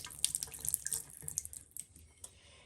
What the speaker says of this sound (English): Now, just want to rinse it a little.